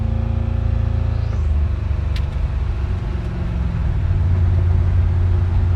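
A 1940 Chevy truck engine pulls along the road, a loud, close drone that climbs in pitch, drops briefly at a gear change, then settles into a steady low rumble, with no speech.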